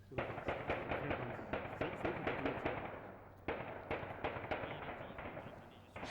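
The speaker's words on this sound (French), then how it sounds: "Les coups de feu reprennent au sein de l'ambassade." Rapid bursts of gunfire crackle in dense volleys inside an embassy during a terrorist attack in Ouagadougou, loud and echoing, with a brief lull midway before the shooting resumes.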